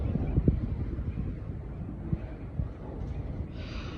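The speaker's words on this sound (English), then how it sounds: "There's still a little bit of wind." Wind buffets the microphone outdoors at a surfboard expo, a steady low rumble with occasional gusty thumps and a faint hiss creeping in near the end.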